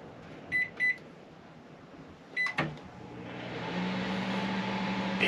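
Microwave oven running in an RV powered through an inverter: a few short beeps, a door-like clunk, then a steady hum rising as the oven runs, with a faint low tone.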